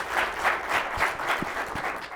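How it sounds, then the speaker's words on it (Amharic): Audience applause at a children's television quiz show marking African Children's Day, a steady wash of many hands clapping throughout, fairly loud and continuous, with no speech over it. "በደንብ አጨብጭቡላቸው።"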